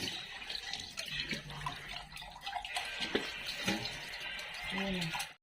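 Dishes being washed under a running tap, with a steady hiss of flowing water and scattered clinks and clatter of dishware throughout, and a voice briefly audible in the background.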